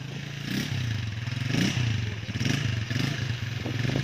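Motorcycles ride through a pool area with a continuous, close engine drone that rises and falls in rhythmic surges, accompanied by rattling clatter and scraping, with no pause throughout.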